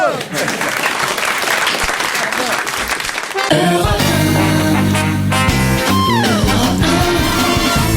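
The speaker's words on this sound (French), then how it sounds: "On vous applaudit" A studio audience on a French radio-television talk show applauds loudly for about three seconds before a music jingle with tones and sweeps takes over.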